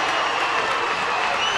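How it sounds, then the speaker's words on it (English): A packed gym at a high school basketball quarterfinal roars with continuous cheering and applause, a dense, even wall of crowd noise with no break. "this crowd is up and excited right now"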